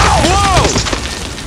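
A single loud boom with a whooshing sweep, heard as a grenade blast in a toy-soldier battle scene, closely miked and fading within about a second.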